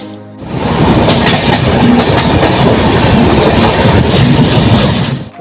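An express sleeper train on the Saharsa–Patliputra line pulls out of Manar Road station, rolling loud and close with a steady rumble and rhythmic clickety-clack of wheels over rail joints, rising in at the start and fading out at the end.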